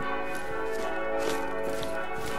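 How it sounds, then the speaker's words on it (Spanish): Church bells ring in the video game Sniper Ghost Warrior 3, a dense, sustained wash of tolling with steady tonal layers and repeated strikes, moderately loud with no talk over them. "Suenan las campanas"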